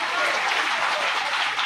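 An audience at a temple ritual ceremony claps loudly and continuously, forming a dense, even patter of applause.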